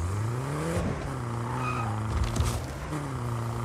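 In the Just Cause 4 video game, a car engine revs and drones with shifting pitch as the vehicle drives toward a mountain, broken by scraping tire skids, loud and continuous with no talking.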